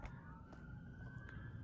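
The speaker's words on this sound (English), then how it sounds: "I hear ambulances, sirens, cops." Emergency sirens from police cars and ambulances sound faintly in the distance of a neighborhood, a thin steady wail under a dull background rumble.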